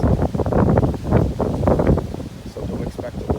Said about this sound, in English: This is kind of my first time like actually being out in tropical storm force winds.